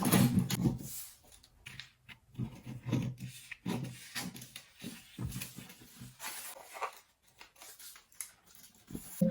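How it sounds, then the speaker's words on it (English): Scissors snipping through paper while cutting out a drafted bustier pattern, close and quiet, with irregular crisp cuts and rustling paper between them. "Now I can go ahead and cut it out."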